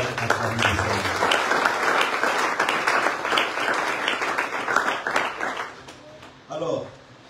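A church congregation applauds and cheers for the Lord, a loud, dense wash of clapping with raised voices that swells and then tapers off, ending in a brief final burst.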